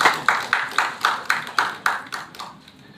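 Steady rhythmic clapping from a press-conference audience welcoming a guest for a biopic film, crisp evenly spaced claps about four per second, close and clear, fading out toward the end.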